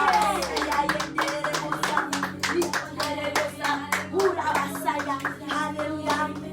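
A church congregation applauding at an evening prayer service, dense rapid hand clapping close by, with voices calling out over it throughout.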